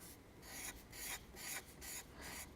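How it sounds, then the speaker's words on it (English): A chisel-nib red marker rubs over grey shading on paper in quiet, soft rhythmic strokes, about six short scratchy passes close up with nothing else audible. "take your chisel nib from your red marker and go right over the top"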